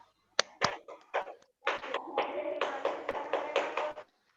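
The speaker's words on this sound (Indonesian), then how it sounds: "Tepuk pramuka" A group of women performs the Indonesian scout clap, the tepuk pramuka, in a set rhythm: a few sharp single claps, a short pause, then a longer run of quick patterned claps that ends abruptly.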